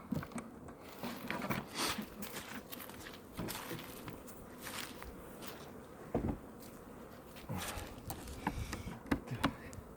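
Honeybees emerging from their hive after overwintering, a dense low buzzing swarm close by with scattered rustles and bumps throughout.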